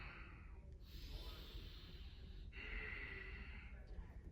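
Slow, deep yoga breaths, a long airy exhale drawn out through a pyramid pose held during a runners' workout, two soft breathy swells heard close and quiet over a low room rumble with no talking.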